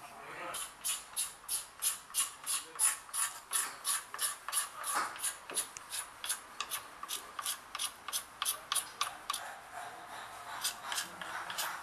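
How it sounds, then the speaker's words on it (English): Sri Lanka rainbow wood is polished by hand in quick, regular rubbing strokes, a rhythmic raspy swish repeating about twice a second, close and fairly quiet. "Polishing."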